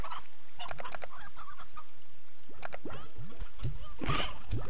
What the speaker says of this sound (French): il y a des dindons